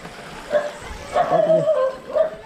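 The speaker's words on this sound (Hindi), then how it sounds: "तेरा कुत्ता तुझे भोंक रहा" A dog on a village road gives a few short yips and barks in uneven bursts, nearby and moderately loud, with faint voices around.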